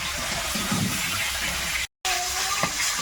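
Climbing perch (koi fish) frying in a pan during home cooking, a steady close-up sizzling hiss that runs without a break except for one very short dropout near the end.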